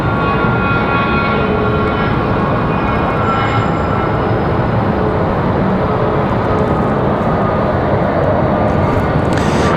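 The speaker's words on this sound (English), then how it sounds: "One of those little exec jets on the move." A small executive jet on the move at Raleigh-Durham airport, a broad steady engine roar filling the whole stretch at fairly close range, with no voices.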